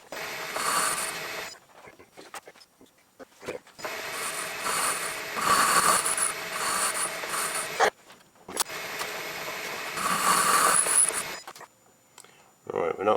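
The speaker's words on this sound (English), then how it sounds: "Alright, let's make a start on the boring process." Lathe boring bar cutting a miniature petrol engine part, intermittent scraping and rattling machining bursts of several seconds with short quiet gaps and a sharp clack between passes, no speech heard.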